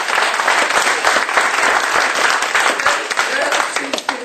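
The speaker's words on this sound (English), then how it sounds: "Give them a round of applause because they've been working hard." Audience at a Titus County GOP convention in 2010 clapping steadily, a dense, close burst of applause that holds for a few seconds and thins slightly at the end.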